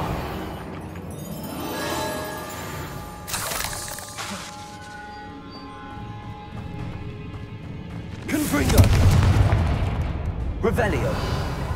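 Confringo blasting spells go off in Hogwarts Legacy as a couple of loud broadband blasts with crackling debris, over busy game ambience, with voices talking between them.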